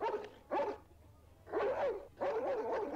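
Dog barking in a TV episode: repeated bursts of close, loud barks in uneven clusters over steady low background hum.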